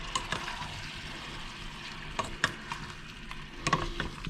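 Onions and tomatoes cook slowly in a pan, giving a soft, continuous sizzle and bubbling with occasional sharper pops and stirring clatters, fairly quiet and with no talking.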